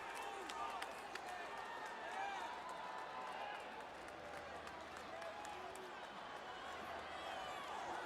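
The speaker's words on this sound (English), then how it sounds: "And getting an applause." Arena crowd applause in the WWE 2K24 wrestling video game as Stone Cold Steve Austin stands tall, a steady dense roar of clapping and cheering running under a commentator's voice.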